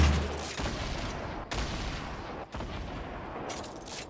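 Dense, continuous gunfire from Fortnite Battle Royale gameplay, a rapid barrage of shots packed closely together with brief dips, loud and close throughout with no talk audible.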